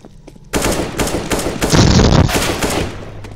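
Rapid bursts of shotgun and automatic gunfire in CS:GO on a co-op haunted mission map, loud and dense, with repeated blasts layered over one another and no talk.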